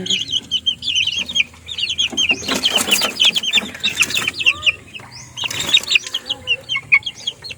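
Backyard chickens flap their wings in several loud bursts amid steady clucking and bird chatter close by, with short flurries of wingbeats rising over the busy calls.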